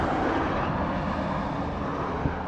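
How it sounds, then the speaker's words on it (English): An old home furnace blower motor runs with a steady, continuous broadband whoosh and hum, even and unbroken, with no voices over it. "That's a blower motor that blows the heat into your house."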